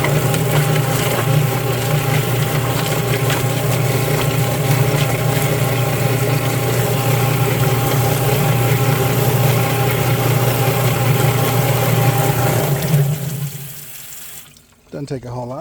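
A spinning chicken-feet cleaner running with its water valve open, giving a steady motor hum and rushing water that hold evenly for a long stretch, then cut out near the end.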